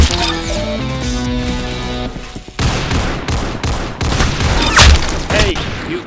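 Dense gunfire in the Roblox game Arsenal rattles loudly and fast over game music and effects, in bursts that keep going for several seconds.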